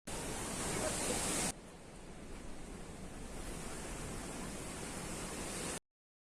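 Stormy ocean surf pounding breakwaters during a typhoon, a dense, continuous roar of crashing waves and spray, loud and unbroken, with wind noise buffeting the microphone.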